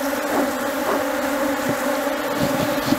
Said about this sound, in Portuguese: sobreninho aqui carregado de abelhas, muito forte